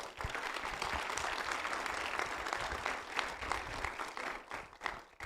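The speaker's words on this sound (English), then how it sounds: "Give them another round of applause." An audience at a mayoral election forum gives a round of applause, a sustained wash of many hands clapping, fairly distant and subdued, fading slightly toward the end.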